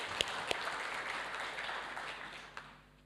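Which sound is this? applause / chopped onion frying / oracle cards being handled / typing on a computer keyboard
applause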